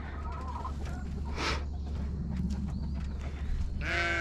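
Laying hens on a homestead cluck and murmur in a steady low chorus close by, with a few brief higher squawks over constant background hum.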